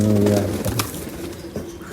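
Pigeons near a pigeon trap coo loudly and close in a low, throaty run, then quieter coos and rustling follow.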